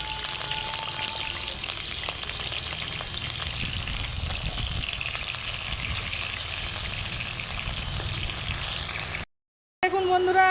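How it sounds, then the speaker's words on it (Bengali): Pointed gourd with salt and turmeric frying in oil in a pan on a clay stove: steady hiss with faint crackle, continuous and close, ending in a brief silence then a short burst of sound. "লবণ আর হলুদ দিয়ে আমি পটলগুলোকে এখন ভেজে নিচ্ছি"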